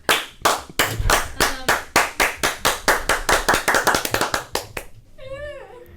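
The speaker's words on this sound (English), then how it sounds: "they're clapping for me." Podcast hosts clapping for a departing guest, a run of about twenty quick, close hand claps that speeds up slightly, followed by a short vocal sound at the end.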